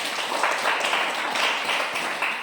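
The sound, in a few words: classroom applause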